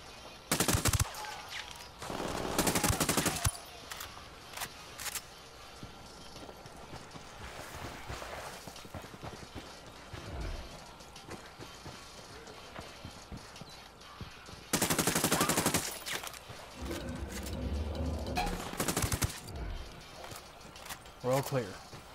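Bursts of gunfire crackle through a Ghost Recon Wildlands firefight, with several loud volleys spread across the scene between quieter stretches of ambient noise and distant hoofbeats.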